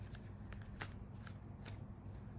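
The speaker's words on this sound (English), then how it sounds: "I'm shuffling my cards in the background, if you can hear it." Tarot cards are shuffled in soft, brushing bursts repeated at an irregular pace, faint and close against a low background rumble.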